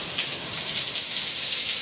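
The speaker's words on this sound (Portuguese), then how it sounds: "E eu deixo você com essa chuva maravilhosa." Steady, dense rain falling outdoors on an autumn day in Bahia, a loud continuous hiss with no breaks and no voices.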